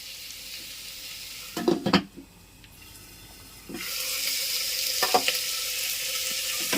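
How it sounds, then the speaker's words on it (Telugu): Onions frying in a pan, a close hiss that dips when the pan is shifted or stirred, then returns louder and steadier, with a few clattering stirs. "ఎర్రగడ్డలు వేగుతున్నాయి కదండి"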